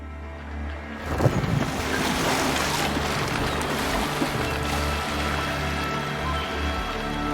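A ship under sail on open ocean in Assassin's Creed Valhalla, bound for Ireland: a constant wash of waves and wind with creaking hull sounds, a surge of water rising after a quiet start and holding steady throughout.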